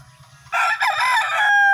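A rooster crows once, loud and close, a long bright call rising then holding, over faint low clucking from backyard chickens.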